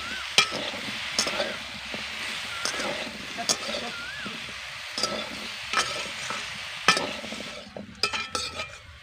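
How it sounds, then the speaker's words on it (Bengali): Chopped vegetables for shukto fry in a pan as ginger paste and cut tomato are stirred in, giving a steady sizzle broken by repeated spatula scrapes and knocks, with a voice talking over it. "এবার দিয়ে দিচ্ছি আদা বাটা। ভালো করে মিশিয়ে নেব সবজির সঙ্গে।"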